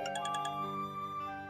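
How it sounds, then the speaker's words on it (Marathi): A mobile phone rings indoors with a bright, chiming melody of quick repeated notes that settles into a sustained tone. The ringtone plays alone at moderate volume. "निवीचाच फोन आहे. घे."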